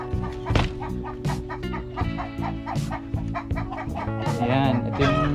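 A free-range Brahma rooster clucks repeatedly at close range, with other fowl calling around it and someone speaking over the birds.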